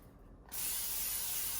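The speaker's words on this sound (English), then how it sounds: "Okay, so I always spray the pan." A can of butter-flavored cooking spray hisses onto a stovetop pan in one continuous burst after a brief quiet moment, close and fairly loud.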